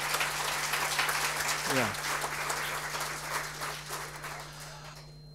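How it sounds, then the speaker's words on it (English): A conference audience claps in a dense, sustained burst of applause that gradually thins out, with a brief spoken word and low background hum underneath. "please clap. Let's get a hand for that."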